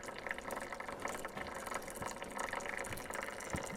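Oil drains steadily from the touch control filter housing of a Farmall 140 tractor, a continuous close liquid trickle and splatter with small drips, running unbroken throughout.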